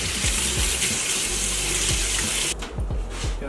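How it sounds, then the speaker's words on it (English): Hands washed under a running kitchen tap, a steady loud rush of water with splashing and shifting tones as the hands move through the stream, briefly changing near the end, with no voices. "now wash your hands real quick"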